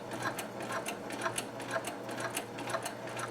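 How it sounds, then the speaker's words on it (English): Sewing machine stitching a circle on fabric without stabilizer, a rapid, regular mechanical clatter of needle strokes, close and steady throughout. "So let me stitch this around the circle."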